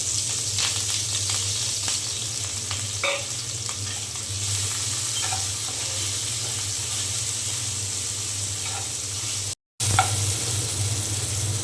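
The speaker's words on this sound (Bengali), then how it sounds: "পরে তেল দিয়ে দিয়েছি আর এখন দিয়ে দেব একটি ছোট সাইজের আলু পেঁয়াজ আর মরিচ কুচি" Small-cut potatoes, onion and chopped chili fry in hot oil, giving a steady close sizzle with occasional stirring clinks. The sizzle cuts out for a moment near the end, then resumes.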